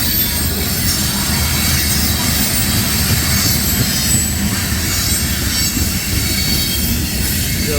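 CSX freight train of empty tank cars rolling past close by, a loud continuous rumble with squealing wheels and some clickety-clack, with no talking.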